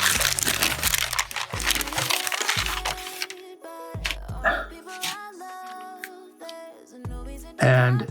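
Gift wrapping paper on a Christmas present, crinkling and tearing as it is unwrapped, loud and close in dense bursts at first, then sparser rustles and cracks with pauses between them.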